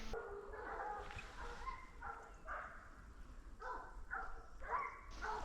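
Hunting dogs bark and yip in short bursts somewhere in the distance during a driven hunt in French woodland, the calls faint and scattered over steady outdoor background noise.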